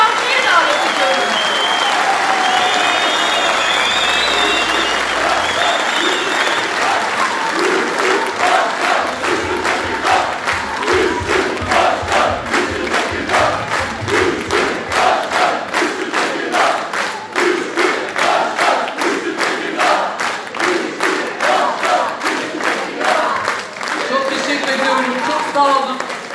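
A crowd at a political rally for a Tekirdağ metropolitan mayoral candidate breaks into sustained, enthusiastic applause with dense rhythmic clapping and cheers that build and carry on, while a voice speaks over a loudspeaker early on.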